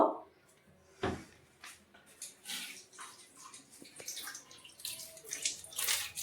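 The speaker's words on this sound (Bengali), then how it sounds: "এটা ভালো করে ধুয়ে নেব" Three fresh aloe vera leaves washed under running water, with intermittent splashing and trickling, a sharp knock near the start and clattery handling that builds toward the end, close and fairly faint, with brief voice sounds.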